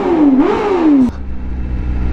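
A 2020 Honda CBR 1000 RR-R SP Fireblade's four-cylinder engine revs up loud and close in a rising, falling howl, then cuts abruptly back to a low, rumbling idle.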